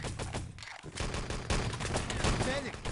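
Rapid gunfire in the shooter game Enemy Territory crackles in dense bursts throughout, overlapping shots from several weapons layered under commentary, loud and close.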